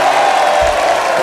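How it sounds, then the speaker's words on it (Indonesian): A television studio audience on the talk show Bukan Empat Mata claps and cheers for its host, Tukul Arwana, in a continuous loud wash of applause with a brief low thump partway through. "beri tepuk tangan yang meriah untuk host fenomenal kita"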